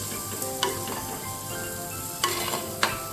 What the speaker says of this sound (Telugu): ఉల్లిపాయలు, పచ్చిమిరపకాయలు బాగా వేపాలి.